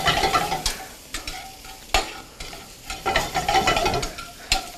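Chicken sautéing in a hot pan with a steady sizzle, broken up by scraping and stirring strokes of a utensil, close and moderately loud.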